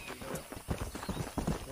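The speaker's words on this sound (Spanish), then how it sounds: "Mi caballo que viene." Horse hooves in Red Dead Redemption clop in a quick, faint rhythmic patter as the mount approaches across open ground.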